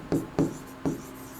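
Pen strokes of someone handwriting an answer to a solid-state chemistry problem, three short scratchy bursts close by in a quiet room, with no talking.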